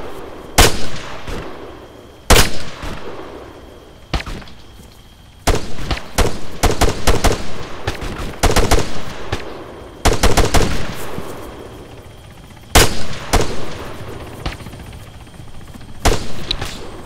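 Gunfire in Arma III: loud, sharp shots and short bursts at irregular intervals, some close and cracking, others echoing with trailing reverberation, spread across a long firefight.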